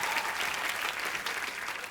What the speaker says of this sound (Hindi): यामी के लिए भी जोरदार तालियां